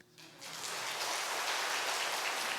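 A church congregation breaks into applause, the clapping rising quickly from near silence into a dense, steady ovation that fills the room.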